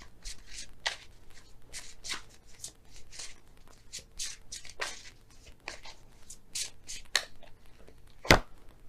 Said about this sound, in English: I'm going to pull an extra card for you guys.